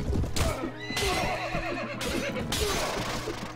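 A horse in Mount & Blade: Warband whinnies repeatedly in the thick of a battle against enemy archers. The loud neighs sit over a steady din of hooves and combat noise that runs through the whole stretch.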